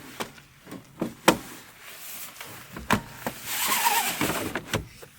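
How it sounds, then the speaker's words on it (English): A car trunk cover is pulled out, giving a series of sharp clicks and knocks followed by a longer sliding, rustling stretch, close and moderately loud. "And I'll pull that out just so that at least the back half of my trunk is covered."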